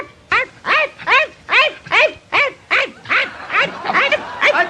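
A dog barks close by at home, giving about a dozen loud, evenly spaced barks in a steady rhythm.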